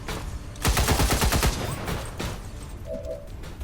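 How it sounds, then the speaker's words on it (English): Gunfire in the modded XCOM 2 game Long War of the Chosen: a rapid, loud burst of about eight shots is followed by a few fainter, scattered reports and a lingering rumble. "Duke, you will fire on the longbow"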